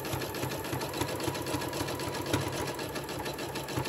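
Sewing machine stitching a zigzag in polyester thread, a fast, steady mechanical whirr with rapid regular ticking, close and constant throughout.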